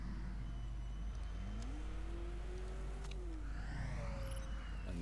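A racing car leaves the pits in a Formula One management game set at the Italian Grand Prix, its engine revving and rising in pitch, then easing back over a constant low hum. No one speaks.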